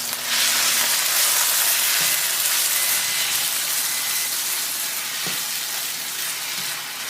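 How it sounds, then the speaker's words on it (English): Brown rice frying in oil in a pot, a loud continuous sizzle and hiss with a few faint stirring knocks, heard alone without talking. "it's sizzling."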